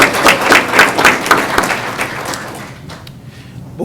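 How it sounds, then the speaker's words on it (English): Applause at a regular county meeting for people called forward, dense clapping at first that thins out into a few scattered claps before fading. "But just give them a round of applause"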